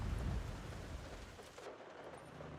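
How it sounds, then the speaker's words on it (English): Rain patters on a car roof in the Forza Horizon 6 video game, a soft, steady rushing hiss with low rumbling underneath, faint and continuous throughout. "The rain pitter pattering on the roof sounds so relaxing."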